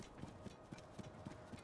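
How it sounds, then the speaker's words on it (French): Horse hooves clip-clop at a steady walking rhythm along a beach in The Legend of Zelda: Tears of the Kingdom, close and fairly soft, with no talk over them. "c'est donc ça, une promenade à cheval sur le bord de la plage"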